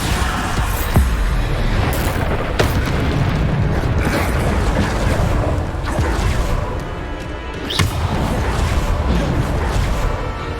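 Bombarda explosion spells blast in Hogwarts Legacy combat: several sharp, heavy booms cut through a loud, continuous din of battle effects, with the strongest hits early, midway and near the end.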